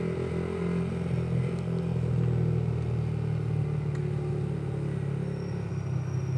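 A Yamaha MT15 motorcycle engine hums low and steady while riding through Bangkok traffic, with a continuous rumble and road noise and faint surrounding vehicle sounds, no speech.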